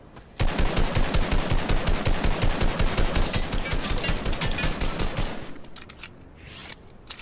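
Video game gunfire: a long, loud, rapid automatic burst of evenly spaced shots lasting about five seconds, then a few scattered shots, with no talking.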